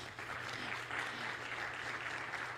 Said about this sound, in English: So please give them a massive round of applause.